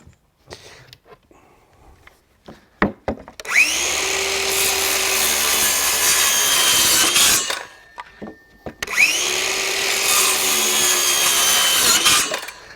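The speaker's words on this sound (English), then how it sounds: "I'm now going to chop all those bits of wood off" A battery-powered saw cuts off pieces of wood while a shelf is being put up, in two loud sustained bursts of several seconds each separated by a short pause, with a few faint knocks before the first cut.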